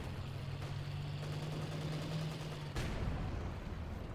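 Gunfire and explosions in the Company of Heroes 2 real-time strategy battle, with an anti-tank gun destroyed by a gammon bomb: a steady low tone and dense rumble, then a sharp loud blast near the end followed by crackling.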